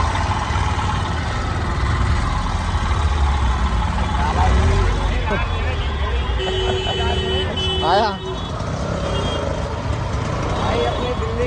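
Busy Delhi street traffic near Azad Market, a constant low rumble of trucks and idling engines with beeping and horn-like tones, and people talking over the noise.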